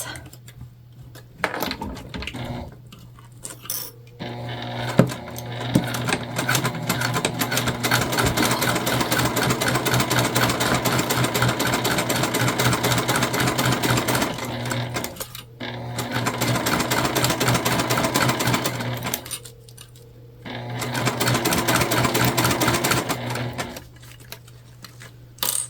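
A sewing machine runs in long steady bursts, basting layers of a tote bag, with short pauses between stitching runs; the motor hum and rapid needle ticking are close and clear.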